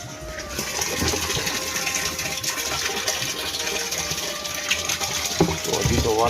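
Water pours into a Sintex plastic storage tank in a steady, continuous gushing rush that holds at an even loudness throughout, with faint voices briefly near the end.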